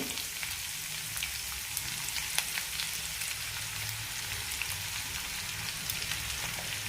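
Onions fry in roasted masala for an all-purpose curry gravy, making a steady, even sizzle with fine crackles, close and moderately quiet throughout.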